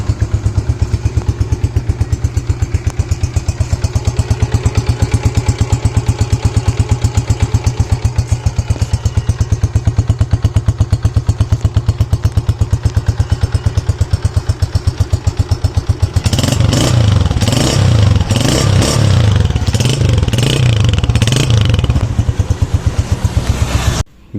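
A Honda CG 125 motorcycle engine with an aftermarket silencer runs with a steady rapid thumping idle, loud and close, then revs harder with a rougher, throatier burst near the end.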